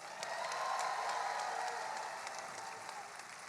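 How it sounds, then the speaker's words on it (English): Rally crowd applauding at an outdoor protest rally, a broad wash of clapping with some cheering, fairly distant and soft, holding steady for the full few seconds before easing slightly. "Give yourselves a round of applause."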